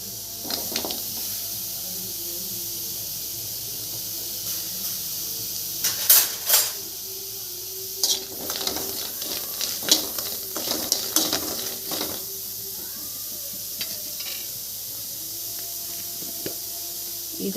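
Cut vegetable pieces for mor kuzhambu, a buttermilk curry, added to a dry pan with no oil: clattering drops and scraping stirs over a faint steady hiss, with a few sharp metallic knocks.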